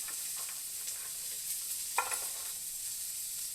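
An onion sizzles softly in hot oil in a pan, for a raw mango chutney, with a few light stirring clicks and scrapes over a faint, continuous frying hiss.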